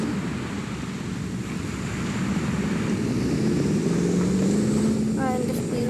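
Boat moving across water in the Roblox video game, a steady engine hum and water wash that swells slightly louder as it goes, with a brief tonal game sound near the end.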